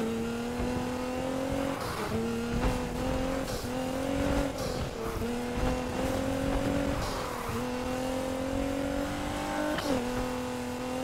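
A car drifting in the Need for Speed Heat racing game, with a steady droning engine note and repeated tire squeals as it slides, engine pitch dipping and rising between bursts over eleven seconds, a voice faintly present in the background.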